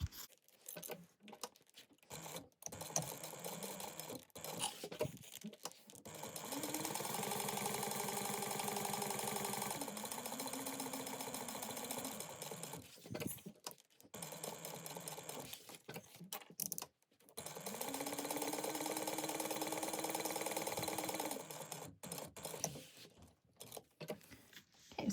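A sewing machine bastes the edge of fabric at 1/8 inch in two runs of steady mechanical humming, each several seconds long, fairly quiet, with handling clicks and shuffling in the pauses.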